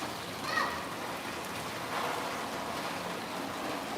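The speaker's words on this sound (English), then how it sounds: "see the rain coming down? It's hitting the tin roof." Steady rain patters down on a tin roof in Cambodia, a continuous hiss with soft scattered drops, no voices.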